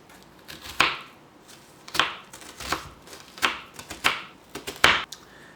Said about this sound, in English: lengthwise we're going to cut into the onion so that you end up with a whole bunch of strands coming in one direction